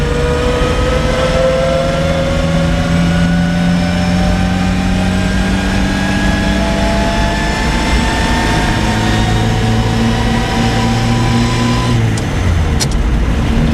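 An old car with a Tillotson carburetor, gently throttled as it pulls up through the gears, the engine note climbing steadily in pitch, then dropping at a shift near the end, loud and close, with no talk.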